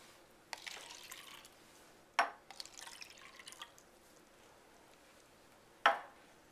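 Water splashes into a cup in a few short bursts, with sharp glassy clinks and drips between them, close and quiet.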